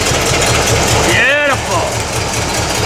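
A supercharged Y-block V8 in a 1932 Ford roadster running up close, a loud, steady, throbbing idle, with a voice shouting over it partway through.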